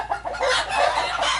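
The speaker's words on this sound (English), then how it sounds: "Chicken is getting excited about something." A chicken clucks excitedly in quick, loud, repeated calls, close and continuous, with no talking over it.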